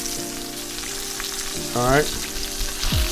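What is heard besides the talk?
ribeye steak searing in a cast iron pan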